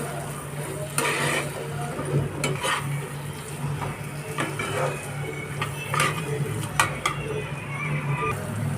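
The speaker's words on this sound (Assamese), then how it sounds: "এতিয়া আলুখিনিও ভালদৰে মিহলি কৰি ল'ম।" A spoon scrapes and clinks around a pan as potatoes are stirred into matar paneer curry, with repeated irregular strokes over a soft, constant sizzle and no talking.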